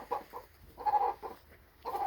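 Rooster sitting close in someone's lap, giving a few short low clucking calls in bursts with quiet gaps, near and fairly soft.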